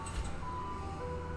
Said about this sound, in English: I hear the ice cream truck again.